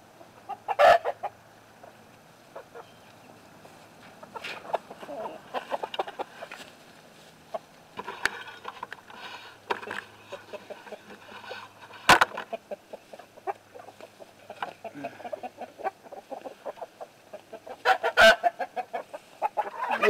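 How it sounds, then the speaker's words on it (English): Chickens cluck and chatter steadily with a rooster among them, punctuated by a few sharp loud bursts, farmyard birds close by with no talking. "Hey, rooster."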